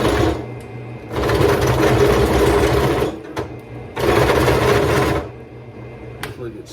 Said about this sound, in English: Chamfer motor.